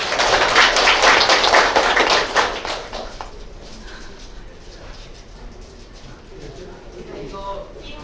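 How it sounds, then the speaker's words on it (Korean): A seated audience at a government AI and data administration meeting gives a burst of loud applause for about three seconds, then it fades into quiet room noise with people talking. "큰 박수 부탁드립니다"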